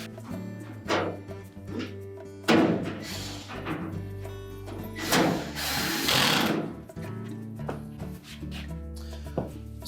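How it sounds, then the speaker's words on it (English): Screw being driven back into the support bracket of a GE dryer during a thermostat repair, heard as bursts of tool whirring and scraping metal handling, close and moderately loud with no talk. "reinstall the single screw on the right hand side here that we removed from that support bracket"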